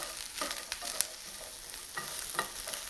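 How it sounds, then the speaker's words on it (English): Chicken pot pie filling sizzles quietly in a pan, a steady soft frying hiss with small crackles and a few faint stirring clicks, no voices. "So let's let this sizzle for a bit."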